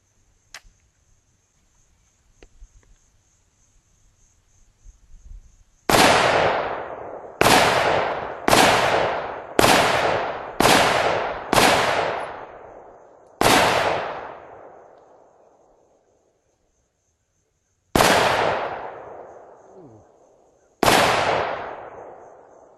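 An AR rifle fires rounds into a bowling ball at an outdoor range, each loud close shot ringing out with a long decaying tail: a quick run of six, one more, then two spaced single shots.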